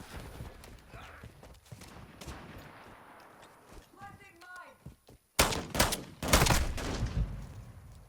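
Gunfire in Call of Duty: Modern Warfare II, a dragon's breath shotgun firing amid game noise and a few short tonal effects, ending in a loud burst of several close, heavy blasts.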